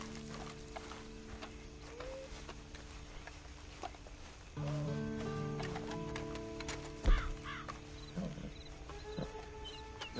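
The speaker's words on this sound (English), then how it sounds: "And you better get on this horse." Horse hooves clip-clop in the Red Dead Redemption Online video game, a faint rhythmic clatter that continues under in-game music and other background sounds.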